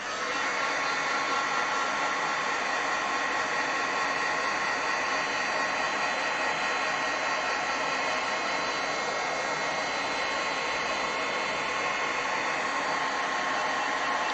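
A heat tool blows steadily and loudly for the whole stretch, a constant whooshing roar with no break, as embossing powder is heat-set on a handmade card.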